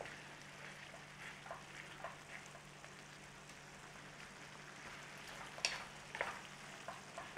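Beef keema mince frying in a pan, a soft steady sizzle with faint crackles and occasional sharp pops, no voices.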